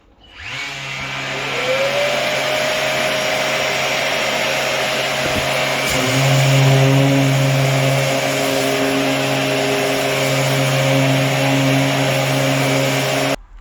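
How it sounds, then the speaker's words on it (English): A power sander works rough wood taken from a big wooden crate for a DIY workbench, giving a steady, loud, continuous whine with a droning hum that runs unbroken from start to finish. "And then I took and sanded them down."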